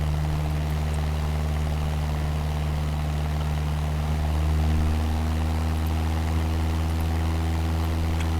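Aircraft engine idling steadily in Microsoft Flight Simulator, a loud, constant droning hum with strong low tones that swells slightly midway, heard alone without talk.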